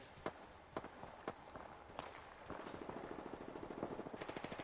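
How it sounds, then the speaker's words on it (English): Distant gunfire in an Apex Legends match: scattered single shots, then a fast rhythmic burst of automatic fire, all heard from afar at moderate loudness with no talk over it. "See, gunfire's over there. They're shooting at somebody up there."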